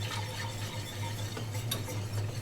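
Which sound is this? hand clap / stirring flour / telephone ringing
stirring flour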